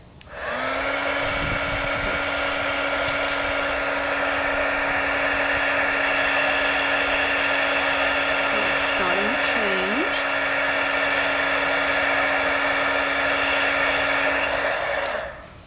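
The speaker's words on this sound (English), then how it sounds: "I'm going to take a heating tool, and I'm going to heat up the embossed image until it's clear" A heat tool blows steadily with a close, continuous high-pitched whirring hum, melting embossing powder on a stamped cardstock image, the tone holding level from start to finish.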